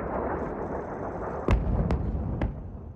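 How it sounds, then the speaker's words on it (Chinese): Airstrike explosions in southern Lebanon at night: several sharp, heavy blasts land over a continuous low rumble, three distinct booms in quick succession from a distance. "爆炸声一浪接一浪。"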